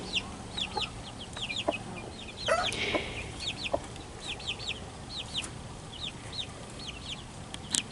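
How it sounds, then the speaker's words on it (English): A mother hen clucks softly and repeatedly to call her chicks in a farm pen, low clucks mixed with high peeping of the chicks, fairly close under faint background noise. "Her little clucking sound. She makes that sound when she wants her babies to come near her"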